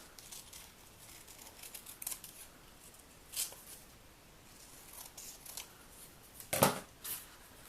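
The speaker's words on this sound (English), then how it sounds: "I'm going to cut real close, even for my rough cut." Scissors snip through snowy-textured specialty cardstock in a close rough cut, several quiet separate snips and brief cuts spread out with a sharper, louder snip near the end, no voices.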